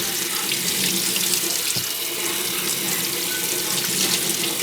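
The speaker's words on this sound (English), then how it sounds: "I usually run cold water on them" Cold tap water runs steadily from a kitchen faucet over drained pasta in a sink, a continuous close hiss and splash with no talking.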